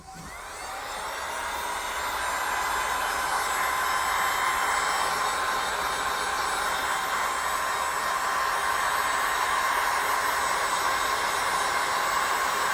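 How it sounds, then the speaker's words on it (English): Heat gun blowing on resin in a bloom tray, a steady whooshing roar with a faint whine that swells over the first two seconds and then holds loud and unbroken. "Now you'll see what I'm talking about when I take the heat gun to it."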